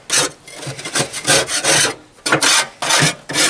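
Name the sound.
scraping food out of the way on a Pit Boss grill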